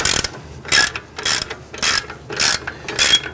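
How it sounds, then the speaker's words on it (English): A ratchet with an 18mm socket undoes the caliper bracket bolts on a 1999-2004 Jeep Grand Cherokee during a rear wheel bearing job, giving five loud, close bursts of rapid clicking with short pauses between strokes. "We're going to use an 18mm socket. We're going to undo the two bolts for the caliper bracket"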